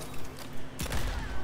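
A gunshot in a Mortal Kombat 11 tournament match: one sharp burst cuts through busy fighting-game sounds midway through.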